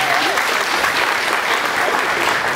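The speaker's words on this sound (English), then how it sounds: "Could you give them a round of applause?" An audience applauds two girls brought on stage, a dense, steady wash of many hands clapping at once, loud and sustained with no break.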